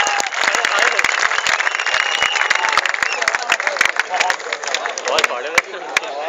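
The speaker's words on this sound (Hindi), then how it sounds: "पूरा सदन एक बार हाथ उठा के जोरदार तालियों से बुलाए डॉक्टर हरिओम पवार" An audience at a college kavi sammelan poetry gathering breaks into loud, sustained applause of many hands clapping, with crowd noise and cheering mixed in and a voice talking over it.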